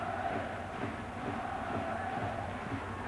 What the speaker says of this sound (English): Terrific noise being generated by the Blackburn supporters as they crave an equaliser here.